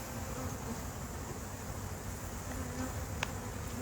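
Honey bees buzzing at a backyard hive, a dense continuous drone with close individual bees passing the microphone and one brief sharp tick near the end.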